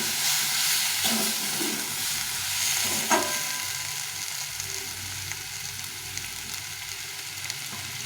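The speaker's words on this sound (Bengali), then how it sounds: "এটাকে সবটাকে ভালো করে কষে দিতে হবে অনেকক্ষণ ধরে সুন্দরভাবে কষে দিতে হবে" Spice paste with onions fries in a pan, giving a continuous hissing sizzle with a few utensil knocks and stirring scrapes early on, close and even, without speech.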